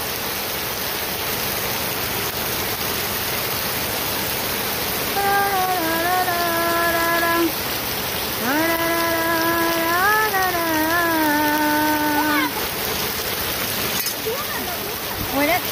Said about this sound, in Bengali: দেখেন প্রচুর বৃষ্টি হচ্ছে